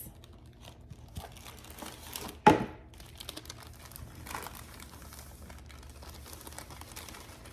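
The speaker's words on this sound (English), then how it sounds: "now I'm gonna go in with my white cake mix" White cake mix poured from its packet, a single sharp crinkle of the bag followed by soft rustling, close and otherwise quiet.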